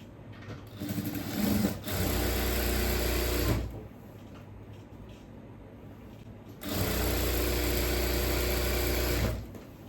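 A sewing machine runs in two long bursts while stitching the side seams of a churidhar with a yoke neck design. It whirs steadily and loudly for a few seconds, goes quiet, then runs again.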